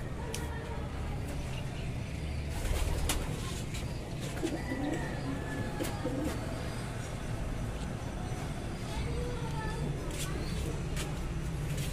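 Pigeons in a loft coo softly and repeatedly against a busy background of rustling and distant traffic, with people talking nearby.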